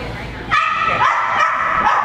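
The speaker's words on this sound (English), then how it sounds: "Noisy puppy, huh? Yeah, he gets mad." A puppy waiting to be groomed at a pet store yelps, barks and whimpers close by in quick, agitated bursts, with voices in the background.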